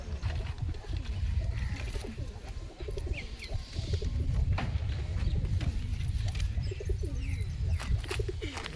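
Steady low pigeon cooing from several birds close by, with occasional faint chirps over a constant background hum.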